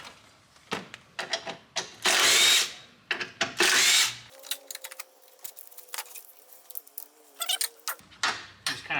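A power tool works on radiator hold-down bolts of a 6.0 Ford Power Stroke truck: short whirring bursts, two longer loud runs, then a clicking ratchet-like stretch and more bursts, close and alone.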